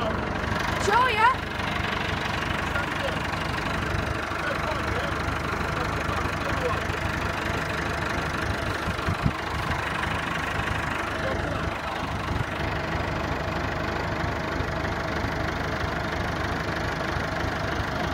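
A Massey Ferguson tractor engine idles steadily and close by at a game fair, a low rumbling drone that holds throughout, with faint voices in the background.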